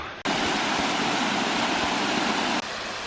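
Loud, steady broadband roar of a waterfall close by, continuous rushing water with no voices.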